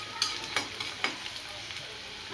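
Onions fry in a pan for a green peas curry, with a steady sizzle under a few soft scrapes and clicks of stirring, close and fairly quiet.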